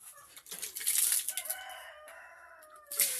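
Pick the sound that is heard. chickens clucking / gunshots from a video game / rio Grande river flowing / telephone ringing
chickens clucking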